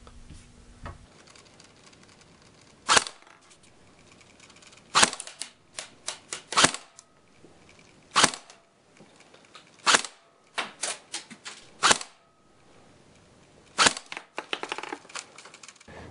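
Separate sharp plastic clicks and snaps as an Umarex H&K G36c airsoft gun is taken apart, in uneven bursts with quiet gaps between them, heard close up with no talking.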